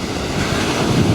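Ocean surf washes onto a shore near the launch of a small robot boat, a steady broadband rush of waves blended with wind buffeting the microphone, continuous and fairly loud with no voices.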